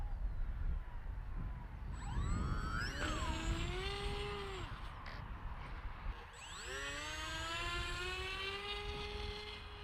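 A Ranger G2 RC model plane strains against the wind, its electric motor whining and sweeping up and down in pitch as the throttle changes, loud and close against a gusty, rumbling outdoor background.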